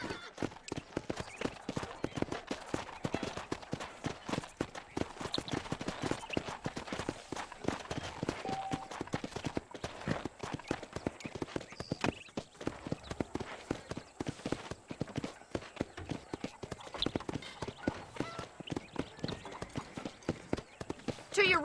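Horse hooves clip-clop in a quick, steady rhythm throughout in the video game Red Dead Redemption, with a voice speaking over the steps.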